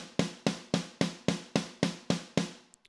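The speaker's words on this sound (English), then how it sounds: "we have a snare sound that sounds like this" Snare drum sample, high-passed, struck nine times in an even rhythm, each hit a sharp, close crack with a short decaying tail.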